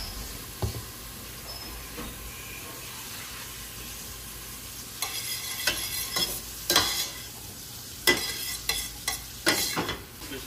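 Garlic sizzling in hot oil in a pan, a steady soft fry with scattered clicks and scrapes as it is stirred, heard close with no talking.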